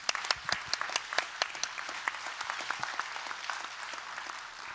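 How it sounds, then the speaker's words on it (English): An audience applauds a panel at a mental health care forum, with dense, steady clapping from many hands that carries evenly from start to finish. "let's give them all a big round of applause now"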